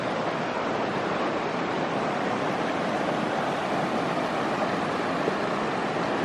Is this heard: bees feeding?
no